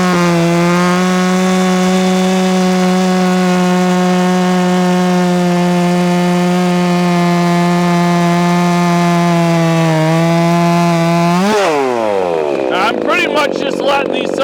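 A ported 50cc chainsaw cuts wood at a steady, high-revving engine whine that holds close and loud for about eleven seconds, then dips and breaks off as the cut finishes.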